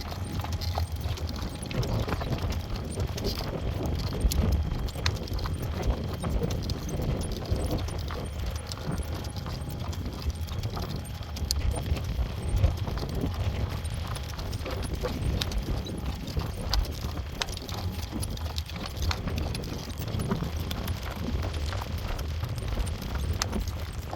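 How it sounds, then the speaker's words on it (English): Horse hooves clip-clop steadily at a slow trot during a cool Sunday morning drive, close and continuous with wind noise underneath for the whole stretch. "Let's just keep a slow trot going, huh?"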